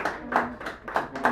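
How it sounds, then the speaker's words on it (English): Audience at an open mic in Sacred Grounds Cafe, San Francisco, clapping in a small, steady round of distinct claps, fairly faint and even in rhythm, with no voices over it. "let's give them a big round of applause"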